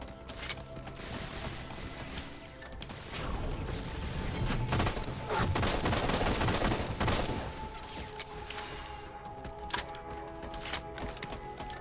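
Rapid bursts of gunfire from a weapon in the Halo 4 video game, dense and continuous through the middle with sharp individual shots scattered before and after, loud and close amid mechanical clatter and game effects, with no talking.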